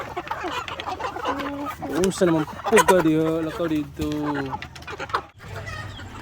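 White leghorn chickens cluck and squawk in a loose, overlapping flock chorus at close range during feeding, with someone talking over them throughout.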